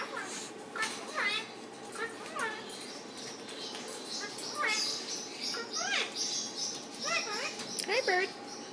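An Indian Ringneck parrot indoors gives repeated sharp chirps and squawks at close range. A person speaks softly between the calls.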